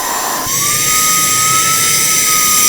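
Aspiring Windstorm 1 cordless car vacuum cleaner running steadily, a loud continuous high-pitched motor whine that rises in pitch and then holds steady.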